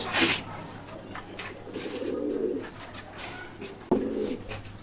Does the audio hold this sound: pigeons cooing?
yes